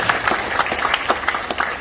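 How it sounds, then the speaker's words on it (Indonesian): Brief burst of audience applause at an Indonesian seminar on debt-free financing, a steady patter of clapping hands at moderate level with no talk over it. "tepuk tangan buat Bapak Ibu semua ya."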